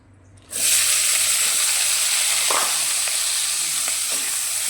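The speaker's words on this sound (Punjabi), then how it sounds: "ਇਹਦੇ ਵਿੱਚ ਹੁਣ ਆਪਾਂ ਪਾ ਦਿੰਨੇ ਆ ਕੱਟੇ ਹੋਏ ਪਿਆਜ਼ ਹਰੀ ਮਿਰਚ" Chopped onions and green chili hit hot oil in a kadai and fry with a loud, steady sizzle that starts suddenly and continues unbroken, with faint stirring and scraping underneath.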